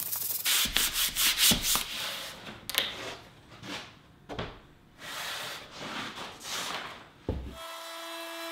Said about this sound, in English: I'll sand the outside of the cabinet with 220 sandpaper in the palm sander